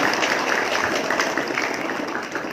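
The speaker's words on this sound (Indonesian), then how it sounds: "Terima kasih buat anak-anak, tepuk tangan" Students clap together at a Monday flag-raising ceremony at SMPN 2 Pasirjambu, a junior high school, producing a dense, steady wash of applause that stays loud from start to finish.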